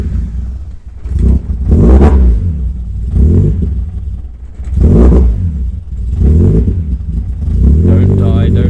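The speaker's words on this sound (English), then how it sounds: "to do that we need to start up the car" A car engine tuned with an ME221 unit cranks, fires and revs in rough surges that rise and fall several times before sagging toward a stall, loud and near.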